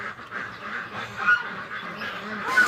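Ducks on a homestead being let out of their pen, a steady chorus of quacking and honking at moderate distance, continuous and overlapping with a couple of louder bursts.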